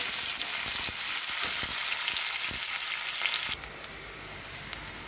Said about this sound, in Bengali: দেখুন বন্ধুরা, আমার পেঁয়াজগুলো ভাজা হচ্ছে